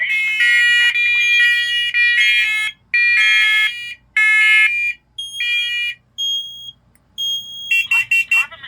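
A carbon monoxide alarm sounds during an alarm system test, with loud, shrill, multi-tone electronic beeps in bursts and pauses and a rapid cluster of short chirps at the end.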